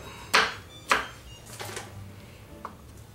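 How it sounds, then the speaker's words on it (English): A knife cuts through several okra pods at once on a board, giving four sharp chopping thuds at uneven intervals, close and distinct, with nobody talking. "You can take multiple pods together and cut them like this and get more going at the same time"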